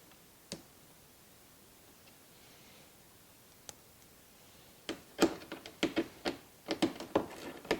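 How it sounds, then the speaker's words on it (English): Small ratchet working T15 screws loose on a car's side marker and splash guard area: a few isolated clicks, then a quick run of sharp, close ratcheting ticks, quiet overall, with no talking. "I've just got like a little ratchet to take this or loosen these up"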